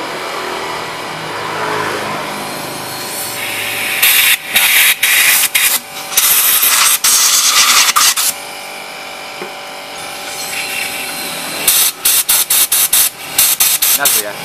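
Gasoline and compressed air sprayed through a motorcycle carburetor jet, heard as loud hissing bursts, some sustained and some in rapid short pulses, close to the mic with someone talking at times.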